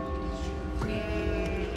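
Sheep bleat in the video game Catherine, a short wavering cry rising over dense game music and ambience.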